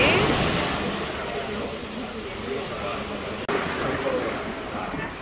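Sea waves at a beach shore in Joyuda, Cabo Rojo, make a steady, loud wash of surf with wind rushing over the microphone, continuous throughout.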